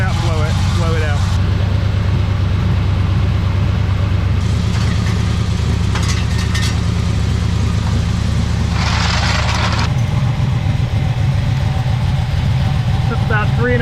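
The engine of a 1971 Chevelle that sat for about 20 years idles steadily after a firing-order fix, a close, continuous low rumble with a few light clicks and rattles, while a person talks over it.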